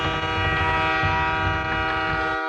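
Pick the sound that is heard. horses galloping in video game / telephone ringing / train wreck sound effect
train wreck sound effect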